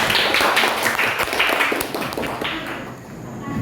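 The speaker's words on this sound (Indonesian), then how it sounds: "Beri tepuk tangan untuk teman-teman kalian." Classmates in a school classroom clap for their friends after a drama performance, a close, loud patter of many hands that thins and fades over a few seconds.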